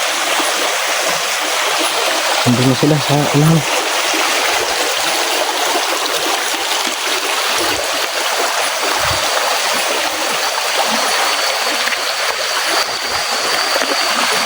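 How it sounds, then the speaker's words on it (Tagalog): Rushing waterfall beside a rough rocky trail over large boulders, a steady loud broadband roar of falling water filling the whole clip, with a brief voice speaking partway through. "Talon."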